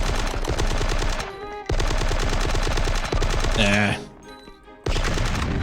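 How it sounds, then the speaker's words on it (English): Rapid, steady machine gun fire from a machine gun nest in a video game, loud and close, breaking off in short pauses and resuming. A brief game tone sounds between bursts, and a voice speaks once. "A man in the machine gun nest."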